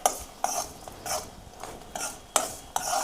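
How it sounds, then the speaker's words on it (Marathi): Spices being stirred with a spoon in hot oil for a homemade remedy, giving a series of scraping, clinking strokes spaced about every half second over a soft frying hiss, fairly close and with no talk. "हे सगळं सामान आहे ना असं चमच्याने हलवून घ्यायचंय"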